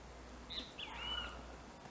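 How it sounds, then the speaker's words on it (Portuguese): A great kiskadee calls a few times in the distance, thin high notes rising and falling over a faint, steady background hiss. "Ao som de um bem-te-vi."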